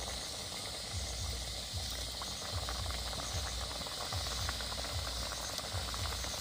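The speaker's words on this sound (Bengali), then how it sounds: "এবার একের পর এক মিঠাইগুলো আমি তেলের মধ্যে দিয়েছি" Mithai sweets frying one after another in very hot oil over a low flame give a steady, fairly quiet hiss with faint low bubbling thumps throughout, and no voices.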